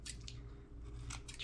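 Scissors trim material for a lavender spring door hanger, a few crisp close snips with pauses between them, no talking.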